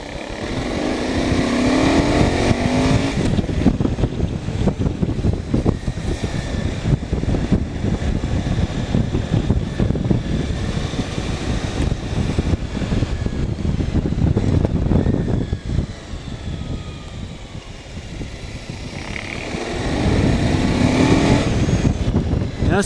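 A motorcycle engine revving hard on the throttle at a motorcycle testing day, loud, sustained roar rising and falling with a dip in the middle before climbing again.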